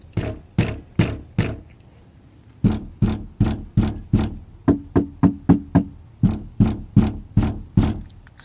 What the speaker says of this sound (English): if you hit it with the back of your palm,